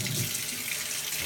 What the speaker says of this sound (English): Rinse them out.